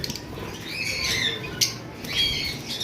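A pair of red-eyed albino lovebirds gives sharp, high squawks and chirps, several bursts close by against a soft background rustle.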